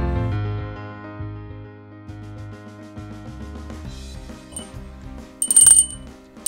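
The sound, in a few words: bell inside a board game (Durian) ringing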